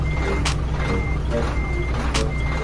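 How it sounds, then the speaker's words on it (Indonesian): Reversing alarm on a Hino HT Euro 4 truck: faint, evenly spaced high beeps repeat over a loud, steady diesel engine rumble at a dealership. "Ini truk dari bos Adi, bos Yudhistira Adi Baskoro Atmojo"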